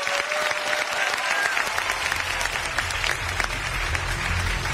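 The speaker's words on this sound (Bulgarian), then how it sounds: "Аплодисменти за тях." Applause from a studio audience at the end of a contest's first round, dense and sustained clapping, with a low hum of music building underneath partway through.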